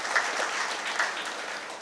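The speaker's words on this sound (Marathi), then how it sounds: "जोराने जरा टाळ्या वाजवा" An audience at a Marathi event claps in steady, dense applause throughout, fairly close and evenly loud.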